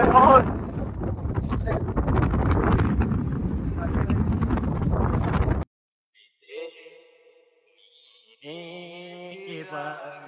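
Strong wind buffets the microphone on a hilltop at Hosahalli Hills near Sakleshpur, a loud continuous rush that cuts off abruptly, followed by quieter moments and a voice speaking.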